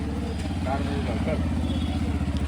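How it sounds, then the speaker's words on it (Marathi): A car pulling up at night in Pandharpur, its engine a steady close idle rumble with a pulsing throb, heard under excited voices calling to one another. "चल गाडी आली"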